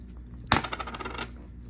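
Coins from a 2006 coin roll spill out in one sharp metallic burst, then jingle and settle in a quick clatter of small clinks that fades over about a second, with no voices.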